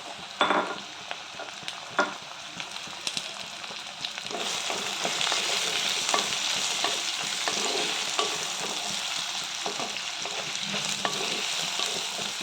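Chopped pumpkin hits a hot frying pan for a coconut prawn curry, bringing a steady close sizzle with stirring scrapes and small clinks throughout, rising to a fuller, louder frying hiss after a few seconds.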